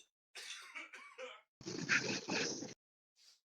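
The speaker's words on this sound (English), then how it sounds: "I'm just fucking coughing my soul out." A person coughs hard in a burst of repeated rasping coughs, then a longer heavy coughing fit, followed by a brief faint breath, close to the mic.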